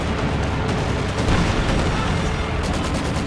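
Kanonenvogel strafing run in Company of Heroes 2, heard as dense, rumbling game gunfire and booms that continue without pause, loud and close, with no distinct voices.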